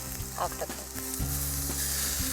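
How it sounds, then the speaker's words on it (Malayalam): Two finely chopped tomatoes with a pinch of turmeric sauté in a pan for a Kerala Vishu dish, sizzling steadily up close with a few soft stirring scrapes and no talk. "നമ്മുടെ തക്കാളി ഏകദേശം ഒന്ന് വഴന്നു തുടങ്ങിയിട്ടുണ്ട്"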